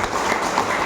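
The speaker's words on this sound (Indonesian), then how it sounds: "Boleh kita beri tepuk tangan?" A church congregation claps at a confirmation service after the creed, a short, steady burst of applause filling the room.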